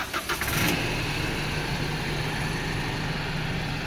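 A four-door pickup truck's engine cranks with a few quick starter bursts, catches, then settles into a quiet, low, steady idle rumble.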